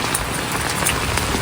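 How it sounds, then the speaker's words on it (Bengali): Heavy monsoon rain pouring down in a coastal village, a dense, loud and unbroken hiss of drops with no voices. "আমাদের উপকূলে কিন্তু প্রচুর আকারে বৃষ্টি হচ্ছে"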